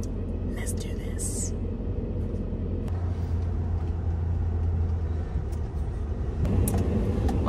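A car carries passengers to day two of the Tampa RV Show in Florida. A steady low road rumble and engine drone runs throughout, with faint murmuring voices inside the cabin.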